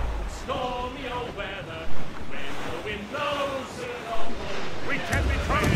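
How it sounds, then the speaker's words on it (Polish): Large ocean waves surge and wash in a snowy sea setting in the video game Assassin's Creed Rogue, a steady broad roar with swells peaking around two and four seconds, mixed with wind noise. "Dość duże fale."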